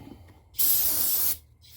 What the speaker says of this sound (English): So now I'm just spraying it all out, getting it all out of there